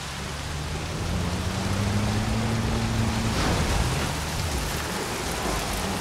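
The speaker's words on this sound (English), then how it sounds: "No, okay, that's the storm." A thunderstorm in the Jurassic World Evolution video game, with steady heavy rain hissing on surfaces for the full stretch and a low rumble of thunder rolling underneath, no voices.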